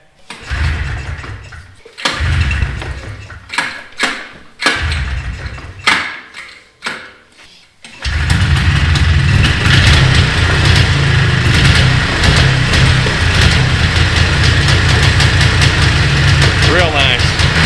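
A four-wheeler ATV engine cranks in several short, sputtering bursts, then catches at about eight seconds and runs on in a loud, steady, rough idle close by.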